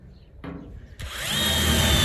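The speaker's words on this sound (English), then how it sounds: "we'll be drilling the holes in our small barrel" Power drill boring holes into a small metal barrel, a brief whir at first, then after a pause the motor spins up and grinds steadily louder, close by.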